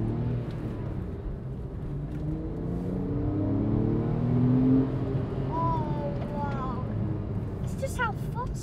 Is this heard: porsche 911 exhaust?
yes